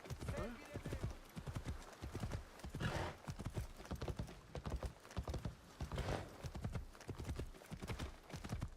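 Rapid rhythmic hoofbeats of a galloping horse in Assassin's Creed Shadows, the clip-clop pounding steadily and close up, with occasional whoosh of movement, and someone talking faintly underneath.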